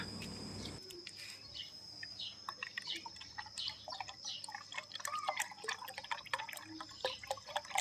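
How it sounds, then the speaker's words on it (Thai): Hot water is poured over refined gold to rinse it, making soft close trickling and dripping sounds that grow busier toward the end, with faint birdsong and insect chirps in the background. "ผมก็จะใช้น้ำร้อนล้างอีกหนึ่งรอบนะครับ"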